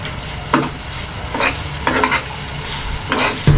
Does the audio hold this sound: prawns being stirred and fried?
yes